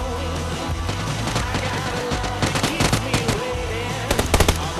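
Gunfire in the battle-royale video game PUBG: rapid automatic bursts and sharp single shots crackle over constant game background noise, growing denser and louder toward the end.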